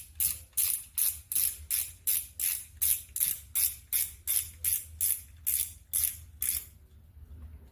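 Drag knob of an Okuma 8000 fishing reel being turned, giving a quick regular series of about sixteen sharp ratcheting clicks, close and loud, then stopping, with no talking.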